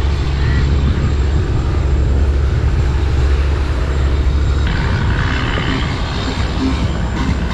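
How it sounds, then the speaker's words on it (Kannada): Fishing boat engine at Malpe port drones loud and steady, a deep continuous rumble running throughout with wind and harbour noise over it. "ಇದು ಫಿಶಿಂಗ್ ಬೋಟ್."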